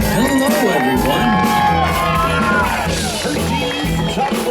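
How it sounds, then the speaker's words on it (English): A loud crowd at an outdoor birthday block party show at Hershey's Chocolate World cheers, whoops and shouts with lively excitement, a dense sustained roar of voices with music-like tones running underneath. "let's give a big round of applause"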